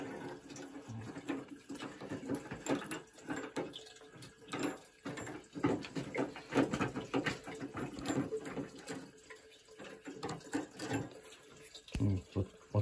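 Water draining from an electric water heater tank, a steady splashing, pattering flow like a running tap that holds for the whole stretch, close and fairly quiet.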